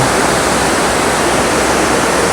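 The Wulai waterfall in Taiwan roars as a steady, dense wash of falling water, loud and close, with no other sounds breaking through.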